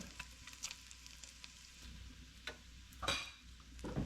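Bacon renders in a hot pan with a steady sizzle and crackle, broken by a few louder scraping stirs of a utensil against the pan near the end.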